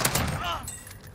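Gunfire in the Warzone video game on Rebirth Island, a brief burst of several rapid shots close up with voice chat running under the firing.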